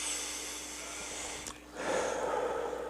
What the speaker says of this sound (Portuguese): E aí fica esse pigarro aqui